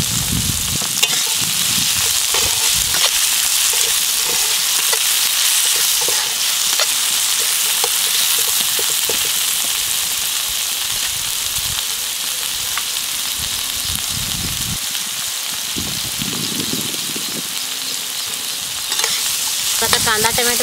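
Onion and tomato softening with salt sizzle steadily in a hot pan, a loud continuous fry with occasional stirring scrapes running throughout, no voices.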